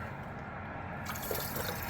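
Water pours into a bottle with a soft gurgling rush, quiet and close, the sound brightening partway through as it fills.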